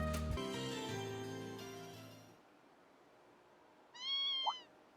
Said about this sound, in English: What's a kitten doing here?